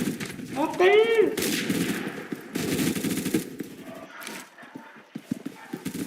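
Gunfire in the first-person shooter Phantom Forces: rapid bursts of automatic fire and single shots over a dense, noisy battle mix, with an electronic sweep early on, continuous and loud throughout.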